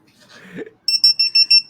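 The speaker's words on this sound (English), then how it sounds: "What's beeping?" A short mumbled voice comes first, then an electronic device alarm sounds five loud, evenly spaced high-pitched beeps in quick succession.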